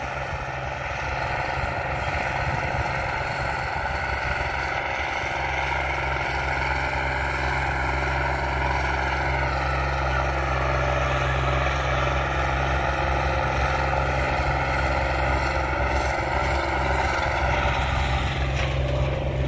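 A tractor engine runs steadily during harrow testing, a continuous loud, low drone with slight shifts in tone throughout.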